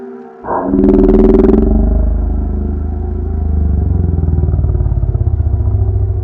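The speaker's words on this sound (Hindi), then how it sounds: "मैंने अपनी बाइक रोक दी" A motorbike engine rumbles loud and close, then settles into a steady idle with a pulsing low throb after the bike stops, heard alone with no talking.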